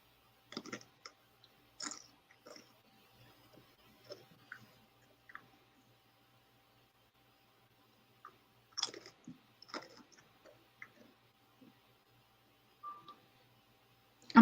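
Sporadic crunchy bites and chewing of Doritos Flamin' Hot Cool Ranch chips, close and fairly quiet, in short irregular bursts separated by silent pauses, with no talk.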